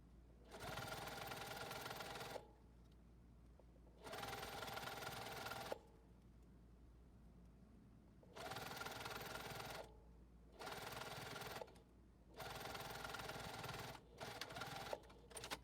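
A JUKI sewing machine stitches in steady bursts, running for a couple of seconds at a time with short pauses between, close and clear with no talking.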